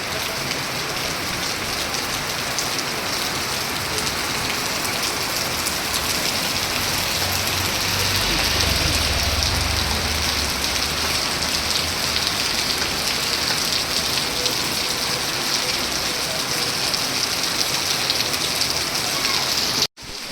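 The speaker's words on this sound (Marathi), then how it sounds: "एकदम जोराचा पाऊस येतोय." Heavy rain pours down in a dense, steady roar on surfaces, constant throughout with a low rumble passing midway, then cutting off abruptly at the end.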